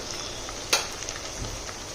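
Spices and green chilli paste sautéing in a pan for a ridge gourd and chana dal curry, a quiet continuous sizzle with one sharp stir clack early on and a few faint scrapes.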